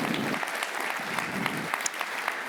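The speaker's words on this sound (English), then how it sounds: "Can we please give them all a huge round of applause?" Conference audience giving a round of applause for event partners, a brief burst of many hands clapping together at steady strength.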